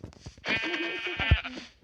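A sheep in the Minecraft video game bleats in a clear, drawn-out call near the start, with quieter game sounds around it and no talk.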